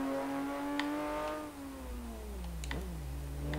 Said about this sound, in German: der Wagen hört sich so ein bisschen so an wie der Lycan Hypersport